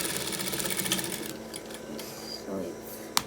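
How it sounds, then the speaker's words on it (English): A sewing machine runs steadily, stitching fabric over a bra cup, its fast mechanical whir continuous and fairly close for the whole stretch before a sharp click near the end. "So you sew that same place that you sewed before"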